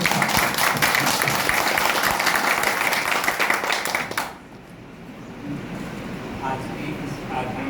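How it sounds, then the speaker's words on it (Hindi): Loud, dense applause fills an indoor gathering at a program in Raebareli, steady for about four seconds before stopping abruptly, leaving quieter room noise behind. "जोरदार तालियों के साथ"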